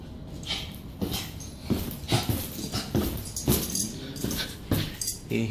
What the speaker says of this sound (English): You can hear the little Pomeranian mixed with chow right there